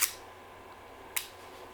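Sony A6600 mirrorless camera shutter firing a 1-second exposure with the electronic front curtain turned off: a sharp mechanical snap, a second of silence, then a closing click.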